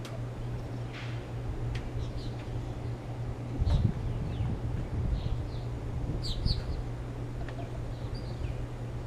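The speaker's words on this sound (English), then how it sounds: "We have lots of birds here." Scattered birds chirp on the Arecibo telescope platform high above the dish, their short faint calls spread across steady wind and a low mechanical hum.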